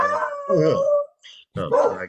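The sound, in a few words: dog howling and barking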